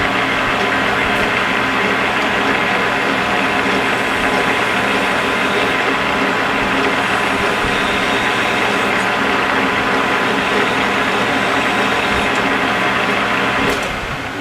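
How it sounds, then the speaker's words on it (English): Metal file rasping against a spinning Marvel Schebler carburetor part on a lathe running in high gear, a steady loud machine whine and hum throughout with the scraping blended in, ending abruptly near the close. "So we're just going to work this down with a file"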